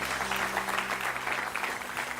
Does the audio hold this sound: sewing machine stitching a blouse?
no